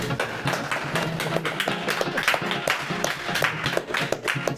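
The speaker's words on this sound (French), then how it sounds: "On peut s'applaudir." A small podcast audience applauds itself at the close of a talk on happiness with a Caribbean neurologist: a lively patter of many quick claps, fairly close and moderate in volume, continuing steadily throughout.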